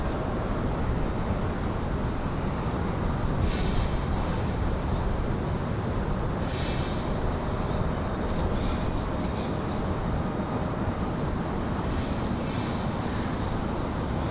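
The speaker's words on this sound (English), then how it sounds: "Buttery smooth touchdown for the Citation 3" Cessna Citation III business jet touching down at Raleigh-Durham airport, giving a steady, loud broadband engine roar and rush of air that holds throughout without talk.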